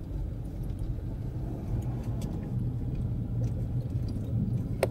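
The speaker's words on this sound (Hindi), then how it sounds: "तो अभी हम राइट साइड पे करते हैं गाड़ी।" A car driving on a road with a steady engine rumble and road noise, close and continuous, as it turns to the right near a COVID vaccination centre in Bangkok.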